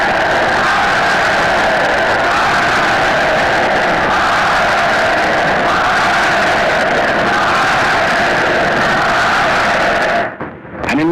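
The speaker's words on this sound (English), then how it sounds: "people were cheering another kind of event." A large crowd cheering and roaring at a public event in Europe, a loud sustained mass of voices that carries on without letup and then cuts off abruptly near the end.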